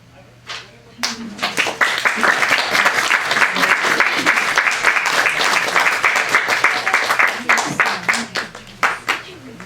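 Audience applause after a poetry reading at a book launch, a dense wash of many hands clapping that starts abruptly and holds steady at close range before thinning into scattered claps.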